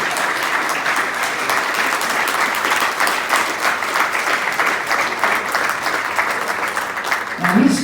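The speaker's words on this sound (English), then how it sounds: "I want to hear a rousing roar of applause for Bernie Grumman" A convention crowd at a vinyl-industry gathering breaks into loud, sustained applause for an honoree, a thick wash of clapping close to the microphone that holds steady throughout, with a brief voice or cheer rising near the end.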